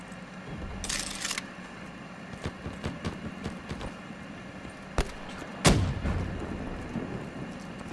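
Artillery strike in the Black Ops 3 video game: a couple of sharp booming blasts stand out over a steady rumbling battlefield bed, one early and a heavier one later.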